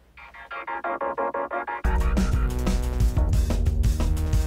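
Ableton Live mix of a vocoder and a MIDI arpeggio: a pulsing, evenly chopped synth pattern, then a loud full mix with a deep bass and rhythmic percussive hits driving underneath.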